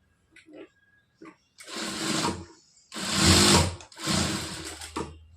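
A sewing machine joins the shoulder seam of a blouse, running in three loud, close bursts of stitching separated by short pauses, with a few small clicks of handling before it starts.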